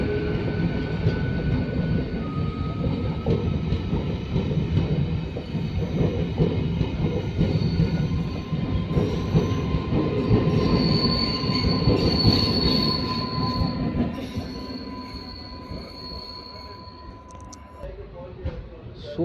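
The Palakkad to Tiruchendur unreserved express rolls along the rails with loud, sustained metallic wheel squeals and a rumbling undercarriage, close by, the squeal fading toward the end.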